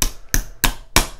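Four sharp, evenly spaced hammer strikes drive a pin into the frame of a Smith & Wesson 916A shotgun cushioned by a rag, close and loud with brief decays between blows.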